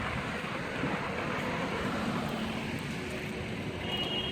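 Street traffic passes near Parque Jocotenego, a continuous moderate rumble of vehicles and road noise with a faint engine tone drifting through.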